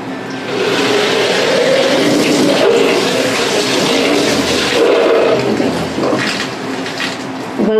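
Water rinsed from a jaggery container pours into a cooking pot on the stove, a steady, fairly loud rushing and splashing that runs continuously for several seconds with no voices.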